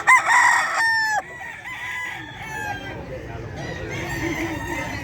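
A pumpkin sweater gamefowl rooster crows loudly and close at a busy Bocaue pet market, one long harmonic call at the start cutting off abruptly, followed by fainter crowing and clucking from other birds over constant crowd murmur.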